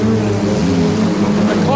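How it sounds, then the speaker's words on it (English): Several V6 super saloon race cars roar past at a speedway championship meeting, a loud sustained engine drone with shifting tones, close and continuous under a commentator's voice. "Listen to these V6 race cars."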